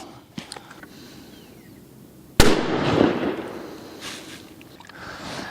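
A 7mm PRC rifle, a CVA Cascade, fires a single loud shot outdoors during ammunition testing, a sharp crack followed by a long rolling echo fading over several seconds, with faint background noise and no talk.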